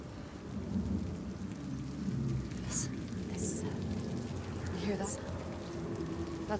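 A storm in Hellblade 2, with steady rain hissing throughout and several sharp thunder cracks and rumbles scattered across it, fairly quiet overall under low murmuring sounds.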